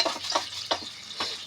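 Garlic, onion and black pepper frying in a pan, quiet crackling sizzle broken by several scraping stirs at short, uneven intervals, close and without talk.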